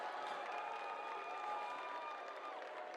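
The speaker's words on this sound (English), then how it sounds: "The crowd getting behind him." Crowd at a high school varsity football jamboree cheering and clapping for a punter before his kick, a steady distant roar of mixed voices and applause.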